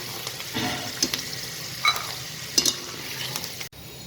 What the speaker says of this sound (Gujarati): સિંગદાણા તળાઈ જાય એટલે આપણે કાઢી દઈશું.